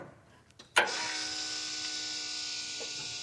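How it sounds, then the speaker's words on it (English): Electric fuel pump on a muscle truck EFI system switching on with a sharp click and then running as a steady, faint high whine and hum, close and alone. "Pump is pumping."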